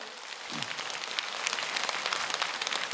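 An audience at a lecture hall bursts into applause, a dense, crackling patter of many hands that swells and holds steady.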